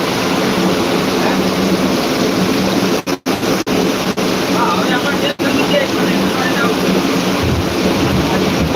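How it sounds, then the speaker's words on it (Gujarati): Heavy rain pours down in torrents in Jamkandorna, making a loud, dense and continuous roar with a few abrupt dropouts partway through. "ધોધમાર વરસાદ પડે હો ભાઈ એમાં કંઈ ઘટે નહીં એવો પડે"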